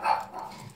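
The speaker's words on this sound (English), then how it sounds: "That's my dog, Claire." A pet dog gives a single short bark up close indoors, with a fainter trailing yelp just after.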